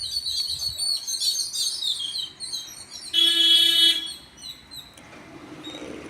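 Many sparrows chirp and twitter in a tree in a green village setting, a busy, high-pitched chatter that runs throughout. A loud, horn-like tone sounds for about a second midway.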